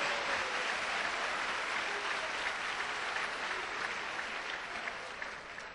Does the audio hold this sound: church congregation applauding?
yes